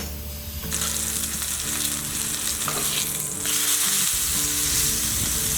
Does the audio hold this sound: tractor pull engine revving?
no